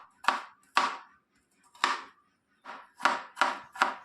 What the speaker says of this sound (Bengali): দেখতে পাচ্ছেন গাজর এবং শসাগুলিকে খুব ভালোভাবে কেটে নিচ্ছি